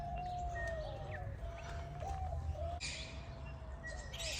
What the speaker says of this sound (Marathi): हा बघा आपला गावठी पोपट बघा.